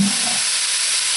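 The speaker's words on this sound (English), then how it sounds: "You want to fry it quickly while you got it on high." Chop suey stir-fried over high heat gives a steady, loud broadband sizzle throughout, with a brief low scrape of the utensil at the start.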